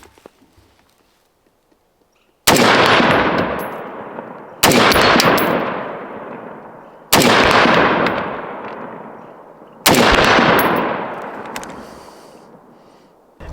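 A truck gun rifle fitted with a muzzle brake fires four very loud, sharp shots, spaced a few seconds apart, each blast followed by a long decaying echo, with no talking.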